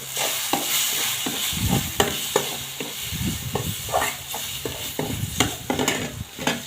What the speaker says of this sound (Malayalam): എല്ലാം കൂടി ഇട്ടിട്ട് നന്നായി വറുത്തെടുക്കണം